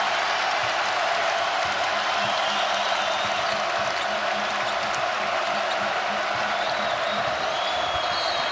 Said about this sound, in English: And here comes this crowd.